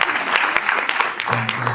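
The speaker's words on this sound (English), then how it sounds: "Let's give them a round of applause." An audience at an engineering students' conference claps in dense, continuous applause, loud and close, with voices mixed in underneath throughout.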